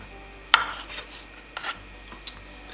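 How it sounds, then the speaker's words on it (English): A knife cuts into a baked plant-based lasagna in its dish, giving a few separate sharp scrapes and taps on the dish, with quiet pauses between them. "the last thing you'll do is just cut into this. Just make a nice little cut."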